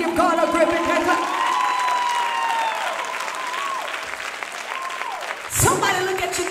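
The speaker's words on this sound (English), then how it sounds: "Somebody give God a grip and hand clap." At a gospel music show, the audience claps and cheers with an organ or keyboard playing underneath, a continuous lively crowd sound with a brief vocal shout near the end.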